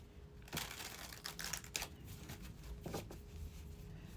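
A deck of tarot cards is shuffled close by, with soft riffling and clustered card clicks in bursts over a quiet background and no talking.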